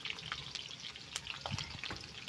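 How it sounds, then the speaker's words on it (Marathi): Green chillies, garlic and ginger frying in a pan on a wood-fired stove, a steady sizzle broken by repeated spoon scrapes and clicks as they are stirred. "सारखं हलवून घ्यायचं"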